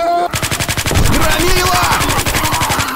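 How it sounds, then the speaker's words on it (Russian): Rapid automatic gunfire in Left 4 Dead 2, a loud, close, evenly paced stream of shots running continuously for a few seconds with faint game voices underneath. "Теперь постреляем."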